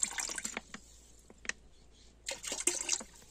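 Desi cow buttermilk poured into a drum in a few brief liquid bursts, a splash near the start and a longer spill near the end, close and fairly quiet.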